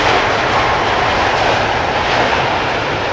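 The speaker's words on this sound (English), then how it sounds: "Emirates Sky Cargo arriving from Dubai. 777 freighter. Giving us a no reversal landing." An Emirates SkyCargo Boeing 777 freighter arriving from Dubai lands at Amsterdam Schiphol airport, giving a loud, steady broadband jet-engine roar that fills the whole stretch with no talking.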